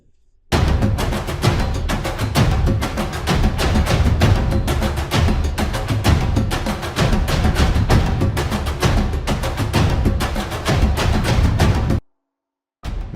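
A full percussion section for an epic film score, with big drum hits and a snare pattern played on ethnic wooden percussion, pounding in dense, steady rhythm for about eleven seconds before stopping abruptly.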